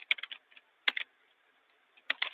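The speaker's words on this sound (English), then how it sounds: "This one that I'm typing" Bursts of keystrokes on a computer keyboard, quick clusters of clicks separated by short pauses, close and clear with no talking.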